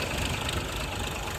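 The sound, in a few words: automatic huller machine engine running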